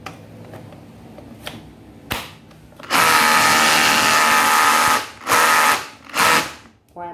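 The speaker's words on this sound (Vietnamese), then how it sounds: "Chế độ khoan, chế độ khoan có búa và chế độ đục đầy đủ chức năng." Makita cordless hammer drill from a Japanese secondhand lot, with drill, hammer-drill and chisel modes, whirring loudly in several bursts after a few faint clicks, with short pauses between runs.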